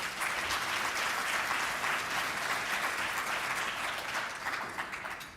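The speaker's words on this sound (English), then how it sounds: "If you can clap for her." A conference audience claps together in a continuous, even burst of applause that stays full and fairly loud from start to finish, tapering off in the last moment.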